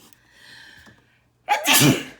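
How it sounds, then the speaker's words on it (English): A single sharp, close sneeze bursts out after a soft breath or murmur, loud and sudden, then fades quickly. "Let's sneeze again."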